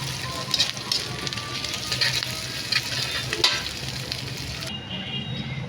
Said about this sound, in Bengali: পেঁয়াজগুলোকে আমি এবার হালকা করে ভেজে নেব।